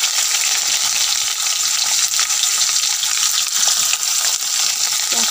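Chopped onions hiss and sizzle loudly in hot oil with bay leaves and five-spice seeds in a pan, the start of an Assamese-style mutton curry; a dense, steady frying roar with faint stirring scrapes throughout.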